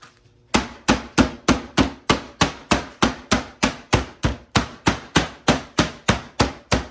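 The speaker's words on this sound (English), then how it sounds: "this thing will really beat some meat, won't it?" A meat tenderizer mallet pounds pork cutlets on a board in a home kitchen, about twenty hard, even thwacks in a fast steady rhythm, close and loud with nothing else heard.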